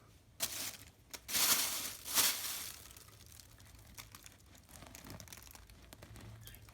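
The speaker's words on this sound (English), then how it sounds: "Now we have paper towels, which is nice because they tear easily." Paper towels crinkling and tearing as they are pulled from around the root ball of a Philodendron squamiferum, several loud close rustling bursts early on, then quieter scattered crackles, with no talk.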